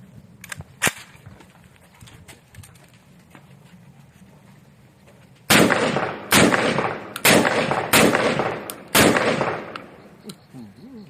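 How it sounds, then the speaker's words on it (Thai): A Saiga-12 semi-automatic 12-gauge shotgun fires a rapid string of about seven loud, close blasts roughly a second apart, each with a short echoing tail, after a few quieter distant shots. "พร้อมยิงได้เลยครับครับผม"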